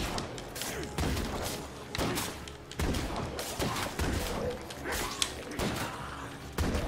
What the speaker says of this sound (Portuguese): Estão dando tiro de 12 aí, mas não finaliza o zumbi.